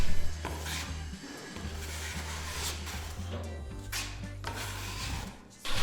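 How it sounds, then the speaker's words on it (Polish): A trowel spreads gypsum filler over fleece tape on fermacell board ceiling joints in repeated rasping, scraping strokes, close and moderately loud over a low steady hum. "Na suficie na łączenia wtapiam fizelinę i na raz wygładzam pacą."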